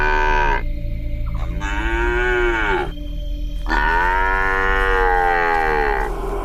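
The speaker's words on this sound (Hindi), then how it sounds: "पीछे से एक बछड़े की आवाज सुनाई देती है" A calf lets out two long, drawn-out moos close by, with a short pause between them over a low steady background hum.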